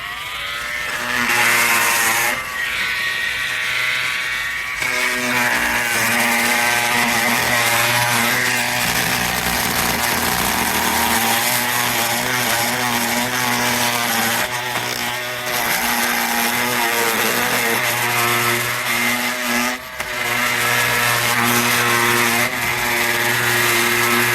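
A power tool fitted with a metal cutting blade runs loud and close during a sash window repair, a sustained buzzing whine that shifts in pitch as it cuts, with brief dips before resuming.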